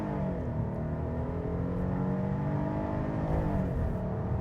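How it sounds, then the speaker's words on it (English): A 2026 Hyundai Palisade Calligraphy floored from a standstill in a 0 to 60 run, its engine droning loud and steady from inside the cabin as the revs climb through smooth gear changes, with no talk. "Let's try another 0 to 60 run. We won't brake torque it here, we'll just floor it."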